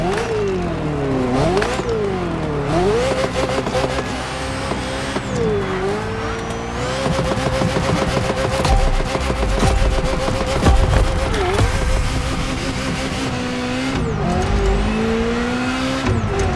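A Ferrari F40 supercar in The Crew Motorfest video game, its engine loud and close, revving up and down repeatedly through rising and falling pitches with bursts of acceleration and brief tyre squeal, under a faint voice.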